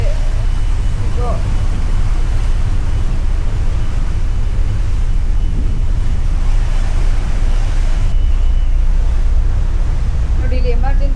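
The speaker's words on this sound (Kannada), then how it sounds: "ಹೆಂಗ್ ಕ್ರಿಯೇಟ್ ಮಾಡ್ತಿದೆ ಅಲೆಗಳು, ಇದು ಮೂವ್ ಆಗ್ತಿರೋದು ನೋಡಿ." A ferry in Japan ploughs through the sea, throwing up waves: a loud, continuous rush of churning water and wind dominates the whole stretch.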